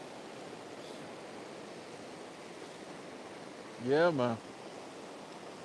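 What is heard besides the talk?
creek flowing among rocks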